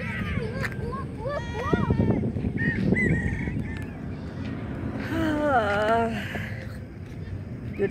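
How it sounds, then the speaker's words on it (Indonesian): Ducks or geese honk and call several times beside Lake Buyan, with harmonic calls standing out around the middle and again near the end over steady outdoor background noise and some talk. "Tadi saya lihat ada bebek apa burung itu ya"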